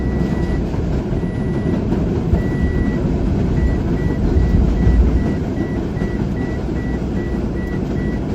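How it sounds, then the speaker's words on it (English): A loud train rolls past on railroad tracks in New York City, a steady heavy rumble and rattle of cars with a faint repeating beep, continuous and close throughout. "Oh, the freaking train, railroad tracks, making so much noise."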